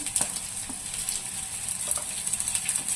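Chopped carrot, cabbage and capsicum fry in a pan while Maggi noodles are prepared, giving a soft steady sizzle with occasional faint stirring taps, quiet and close.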